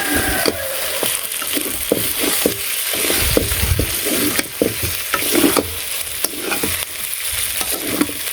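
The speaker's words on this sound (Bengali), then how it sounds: "ব্রয়লার মুরগি একটু বেশি ভাজা না হলে ভালো লাগে না" Broiler chicken pieces frying in plenty of oil in a village kitchen, a steady loud sizzle with repeated stirring scrapes and clatters throughout.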